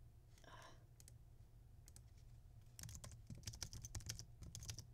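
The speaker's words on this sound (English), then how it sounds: "Also, sorry for typing noises." Quiet typing on a computer keyboard: a few scattered clicks at first, then a rapid burst of close keystrokes over a low hum.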